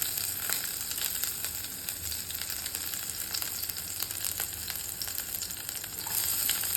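Green chilies fry in hot oil over medium heat for a ridge gourd chutney, giving a continuous close sizzle with scattered crackles and light stirring noises, with no voices over it.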